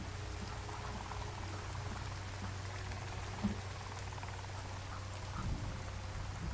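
Steady rain falls in the video game Sons of the Forest, a constant soft patter with faint drips and a low hum underneath, with no voices.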